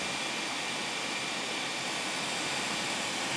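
A homemade jet engine built from a Dyson hairdryer runs with a steady, loud, broadband roar and hiss that holds constant throughout, with no talking.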